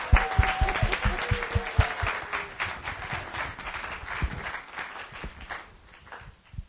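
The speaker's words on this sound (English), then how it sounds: "let's all clap that we're there" Audience at a seminary lecture clapping together, a steady wash of applause with distinct nearby claps that gradually thins and fades toward the end.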